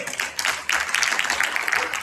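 Crowd applause at a Mumbai award ceremony following a speech, dense clapping from many hands, fairly loud and continuous with a brief dip early on.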